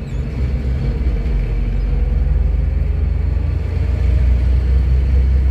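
A passing bus at a Dutch roadside stop gives a steady, low engine rumble that swells slightly toward the end, with no voices over it.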